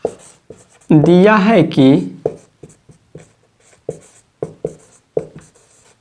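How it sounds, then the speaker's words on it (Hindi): A pen or marker writes out a geometry problem during a math lesson, giving a string of short scratchy strokes in an irregular rhythm. It is close and clear, following a brief burst of spoken instruction. "अब हम राइट करेंगे, लिखेंगे"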